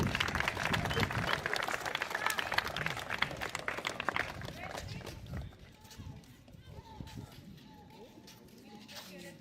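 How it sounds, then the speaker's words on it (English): Outdoor crowd applause for the women wing foil racers at the World Cup in Italy, loud scattered clapping that fades after a few seconds into quieter background chatter and wind. "Big round of applause for all the women."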